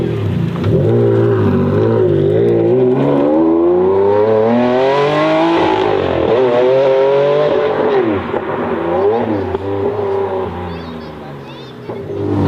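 A Ferrari Enzo V12, a limited-production supercar, revs loudly and alone through repeated rising and falling sweeps, climbing to a sustained high wail before settling back down.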